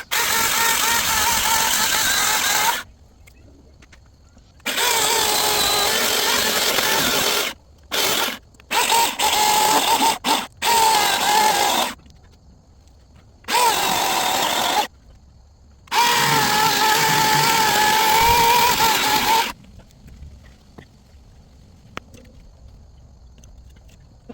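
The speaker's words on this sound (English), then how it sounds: "I end up using my mother-in-law's electric chainsaw that she has" An electric chainsaw cutting a tree stump whines loudly in several bursts of cutting, stopping and starting with short quiet gaps between runs.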